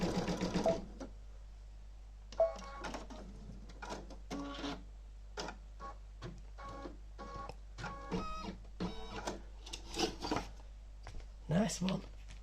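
A Brother Stellaire embroidery machine sewing a zigzag stitch on a hanging decoration badge, with rapid mechanical needle clatter in short bursts over a steady low hum, close by, while a person talks.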